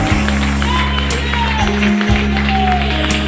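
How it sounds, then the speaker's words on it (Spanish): A church congregation claps along during a worship chorus, a steady rhythmic clapping blended with loud ongoing music and voices. "Dale palmas"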